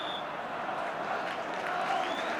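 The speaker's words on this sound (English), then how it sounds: "the applause still" A football crowd at a West Ham United v Arsenal match applauds a West Ham attack, a broad, distant roar of clapping and murmur rolling steadily around the stadium.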